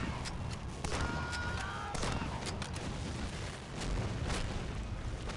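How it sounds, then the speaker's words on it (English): Battle explosions and gunfire in the video game Medal of Honor Allied Assault form a dense, continuous roar, with scattered sharp bangs and booms over steady loud rumble. "You got explosions behind you, meaning you can't stand still."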